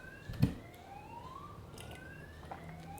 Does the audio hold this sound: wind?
no